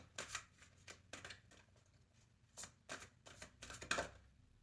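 Tarot cards shuffled and drawn in quiet, close riffling bursts, several separate brisk shuffles with short pauses between them, no voices.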